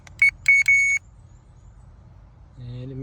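Handheld electrical circuit tester used on a crew cab Buick wiring problem gives three short high beeps, then a lower steady tone near the end, clear and close.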